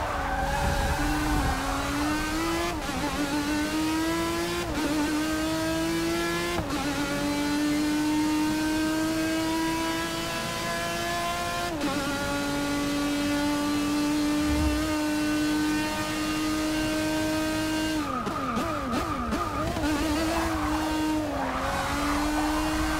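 Race car in Forza Motorsport 6 racing around a track, engine tone rising and falling through gear changes, with tyre skids and squeals in the corners, loud and close throughout.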